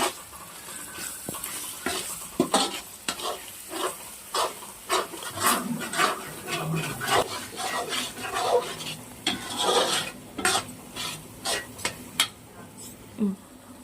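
Egg biryani masala with chili powder frying in oil in a pan, stirred with repeated scraping strokes over a constant sizzle, close by, with a voice talking at times.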